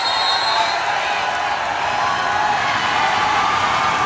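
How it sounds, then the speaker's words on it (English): A crowd at Rubin Arena grows loud during an NCAA tournament college volleyball match, a steady broad roar of cheering and noise with no breaks, fairly close and full. "the Rubin Arena crowd starts to get loud"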